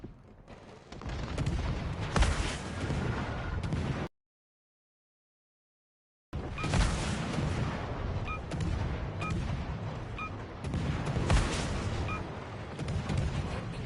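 Explosive impacts and rolling booms from a naval battle in World of Warships Legends as a missile strikes an enemy cruiser, dense and loud with repeated blasts, broken by a brief silent gap midway.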